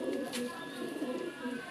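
Pigeons cooing in a loft where a keeper shows off his birds, soft low repeated coos close by with a voice in the background.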